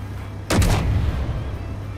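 Automated turrets in a video game open fire with a sudden heavy boom and a short, rapid volley of blasts over a low steady hum, then a lingering rumbling tail.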